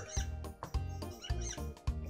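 A cartoon beaver in the Wild Kratts Creature Math video game squeaks as it is petted, four short rhythmic squeaky calls close and clear.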